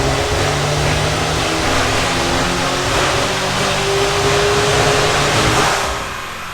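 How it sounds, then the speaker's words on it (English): A car engine drones and revs steadily on a dyno during tuning in a shop, loud and continuous with a rough low rumble that swells slightly before easing off at the end. "it sounds more like they're actually tuning the vehicle and not doing a full dyno test"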